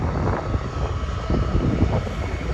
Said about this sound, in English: There's a private jet taking off right now over there.